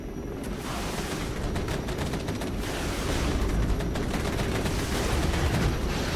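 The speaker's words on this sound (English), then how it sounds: "I think that's just the machine guns of those T-80s trying to shoot down my Apaches" Sustained, rumbling machine-gun fire from T-80 tanks shooting at Apache helicopters in the Regiments game, a dense, steady barrage with distant thumps underneath.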